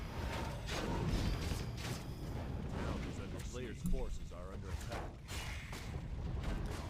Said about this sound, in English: Oh, look at the barrage! Ooh, it's fireworks!